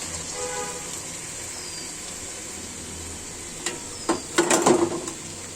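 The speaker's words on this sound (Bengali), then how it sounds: "এই তেলটা গরম হচ্ছে এখানে দেখুন দর্শক এই যে ছেঁচা পেঁয়াজ রসুন কাঁচা মরিচ আছে দিয়ে দিচ্ছি" Chopped onion, garlic and green chili go into hot oil heated for frying fish. A steady low hiss suddenly erupts into several loud, crackling sizzle bursts near the end.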